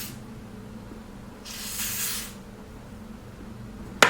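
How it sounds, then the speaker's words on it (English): A single spray hisses for about a second onto lace-front wig lace, close and soft against a quiet room, followed by a sharp click at the end. "So I go ahead and spray in the spot I want the wig to be."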